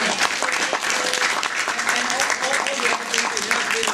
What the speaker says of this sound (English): please give a big clap